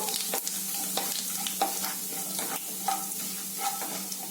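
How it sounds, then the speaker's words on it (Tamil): Mustard seeds and cumin crackle and pop in hot oil in a pan, a steady close sizzle broken by scattered sharp spluttering bursts and a few utensil clinks. "கடுகு பொரிய ஆரம்பிச்சிருச்சு சீரகம் சேர்த்துக்கலாம் ரெண்டும் கொஞ்சம் நல்லா பொரியட்டும்"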